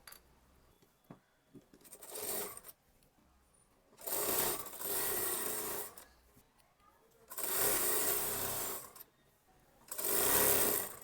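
Sewing machine stitching an Anarkali kurti with a keyhole neck, running in three steady bursts of a couple of seconds each, with quiet handling rustles and pauses between.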